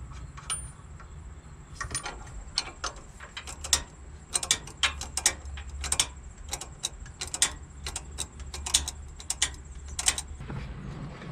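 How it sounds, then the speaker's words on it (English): A ratchet wrench tightening the sway bar end link nut on a 2008 Ford F150, close and crisp, clicking in quick irregular bursts over a low background hum. "Hold it with the wrench and tighten it up."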